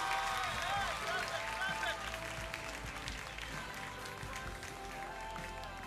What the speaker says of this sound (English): Now you all can applaud for the entire upper sixth class.